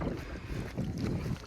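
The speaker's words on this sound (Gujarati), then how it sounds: "તો આ છે આપણી બોટિંગ" Boat moving across open water in Narmada district, with steady engine and water rush blended with heavy wind buffeting the microphone, no voices.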